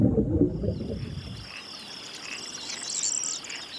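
An Iberian frog croaks in a natural outdoor setting. Low, rasping calls come in the first second and a half, then thin, high insect-like trills run steadily underneath at moderate volume, with no voices.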